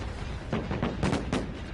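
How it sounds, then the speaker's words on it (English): A quick cluster of muffled bangs sounds in close succession, flashbang grenades going off in Dead by Daylight, with a low game rumble throughout. "Oh, look, flashbangs."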